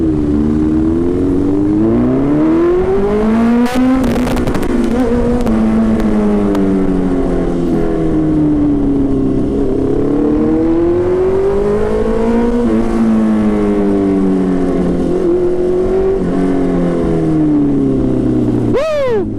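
Honda CB650R motorcycle with a full system exhaust and ECU reflash, accelerating hard through the gears, a loud close engine roar rising and falling in pitch with several shifts, no talk.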